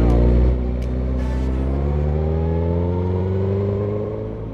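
A 2.5-litre car engine revs steadily nearby, its harmonic drone rising slowly in pitch across the clip, loud and continuous before easing off at the end.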